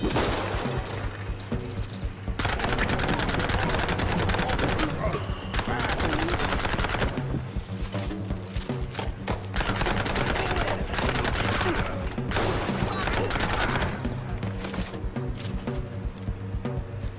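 Gunfire from the video game Mouse: P.I. For Hire, loud and nearly continuous, with rapid rattling bursts and heavy shots layered over a busy soundtrack.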